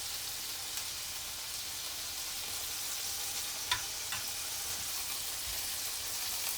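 Meatloaf with gravy spooned over it frying in a pan, a steady soft hiss of sizzling with a few faint clicks, close and alone.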